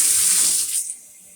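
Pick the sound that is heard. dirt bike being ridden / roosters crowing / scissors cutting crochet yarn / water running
water running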